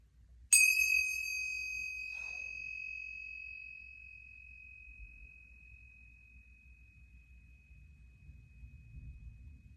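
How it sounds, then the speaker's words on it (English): A single strike of finger cymbals gives a bright, clear ding that rings on alone in near silence and slowly fades away over several seconds. "not open until the finger cymbal stops ringing"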